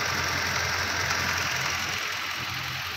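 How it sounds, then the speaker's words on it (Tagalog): A 2015 Toyota Fortuner engine idles steadily and quietly, a smooth, even hum with no voices. "tahimik na tahimik itong makina at binibreak in ko na lang po"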